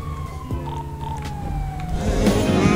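A police siren from the video game GTA V wails and rises over a low engine rumble, holding a sliding tone across the clip and growing louder toward the end.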